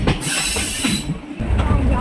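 A Shan train on an old hill railway runs toward Sinnamuta station, with a short burst of loud, close rumbling and high metallic wheel squeal over the rolling carriage noise.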